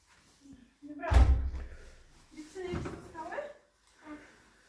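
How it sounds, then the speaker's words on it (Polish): A door is shut with a solid thud, followed by softer rattling handling noises, fairly close, with a voice speaking briefly over the quieter parts. "Zamknąłeś drzwi dobrze, Wadziuś?"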